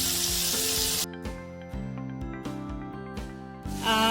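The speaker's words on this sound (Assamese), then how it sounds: "মিছা মাছখিনি ফ্ৰাই কৰি ল'ম প্ৰথমে" Small shrimp sizzle in hot oil, a loud crackling hiss that dips after a moment and then swells again, while tonal sounds play underneath.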